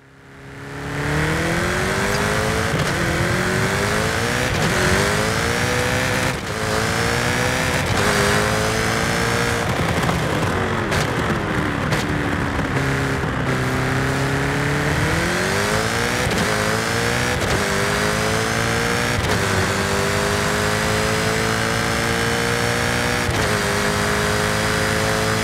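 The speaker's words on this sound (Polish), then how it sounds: "to jest najlepiej brzmiący samochód chyba z tego dodatku" A car engine in Forza Horizon 5 from the European Automotive expansion, an eight-speed model, revs loudly and continuously, its pitch climbing and dropping through gear changes without talk.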